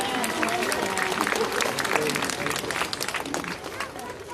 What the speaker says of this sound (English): Let's give her a round of applause for that one.